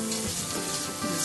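Ginger and shiitake mushrooms stir-fried in a hot pan give a loud, steady sizzle without pause and with no talk over it.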